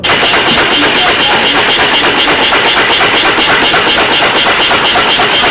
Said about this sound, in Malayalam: അങ്ങനെ അട്ടി വെച്ചതിനെ ഇതുപോലെ കൃത്യമായി കട്ട് ചെയ്യുന്നതാണ് അടുത്ത പരിപാടി